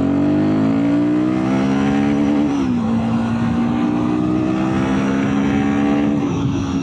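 A Royal Enfield Guerrilla 450 motorcycle engine pulls steadily in second gear, a loud close-up drone that dips briefly mid-way and then holds, with wind rush underneath.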